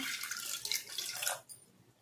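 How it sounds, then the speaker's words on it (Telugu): Water poured into a glass while preparing a henna hair dye mix, a soft steady trickle that stops abruptly, faint and alone with no talk. "ఒక 3/4 గ్లాస్ దాంట్లో నీళ్ళు పోసేస్తామమ్మా"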